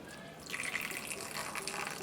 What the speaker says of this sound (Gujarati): પીસવા માટે આપણે આમાં બે ચમચી જેટલું પાણી નાખીશું